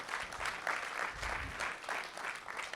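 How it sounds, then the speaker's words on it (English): An audience at a community meeting gives a round of applause, a soft, fairly distant patter of many hands that swells and fades slightly over a few seconds. "Please give them a round of applause for feeding us tonight."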